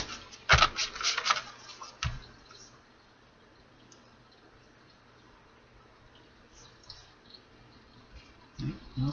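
Tarot cards riffled and shuffled in quick crisp bursts at the start, then a quieter stretch with a few faint card clicks and rustles near the end.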